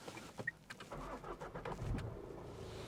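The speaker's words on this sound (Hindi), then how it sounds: "स्टार्ट स्टॉप बटन यहाँ पे प्लेस्ड है और एक बार और स्टार्ट करके दिखाता हूँ" A Tata Altroz diesel engine is started with its start-stop button: a few clicks, a brief crank, then the engine catches and settles into a low, steady idle, heard close and fairly quiet.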